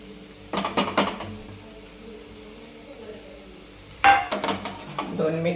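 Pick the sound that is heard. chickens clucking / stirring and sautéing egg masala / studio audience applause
stirring and sautéing egg masala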